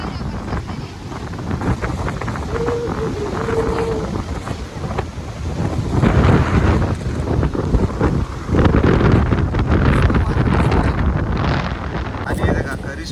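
A coastal wind and rain storm lashes outdoors, strong gusts roaring and buffeting the microphone in a loud, continuous rush that swells over time, with faint voices in the background.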